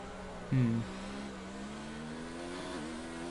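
F3 race cars accelerating in a sim racing game at a round in France: a faint, steady engine drone with tonal whine, one brief louder burst early, then a slight pitch rise near the end.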